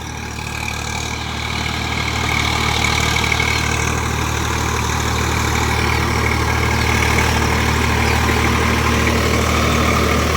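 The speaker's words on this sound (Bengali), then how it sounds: "স্বরাজ 744 4WD 1 নম্বর লোয়ে চলছে।" Swaraj 744 FE 4WD tractor running in first low gear through deep mud choked with water hyacinth, its diesel engine a loud, steady, close rumble holding an even pitch throughout.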